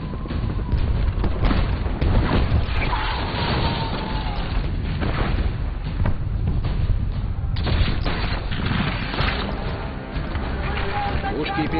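Rumbling booms and crackling blasts of ship cannon fire in a video game roll on continuously under shouted Russian voices, loud and chaotic like a naval battle of the Four Days' Battle of 1666.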